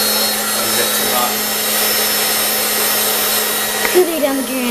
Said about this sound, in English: Not too close, or the air dryer will stop working.